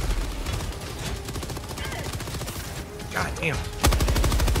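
Machine gun fire in a co-op action video game: dense, rapid bursts running nearly throughout, with a heavy burst near the end, under a voice talking over the shooting.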